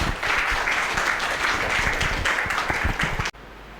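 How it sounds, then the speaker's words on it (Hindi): A hall audience applauds loudly to welcome Dr. K.C. Devnath at a drug-free India awareness event, the dense clapping steady for about three seconds before cutting off abruptly. "जोरदार तालियों के साथ आपका"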